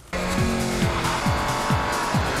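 Family cars driven hard on the Silverstone track, engines revving loudly as tires squeal in several sharp, repeated skids, close and prominent throughout.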